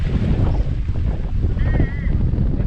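Steady sea surf and strong wind buffeting the microphone on the shore at Dhanushkodi, a loud, continuous roar with no pauses and no voices.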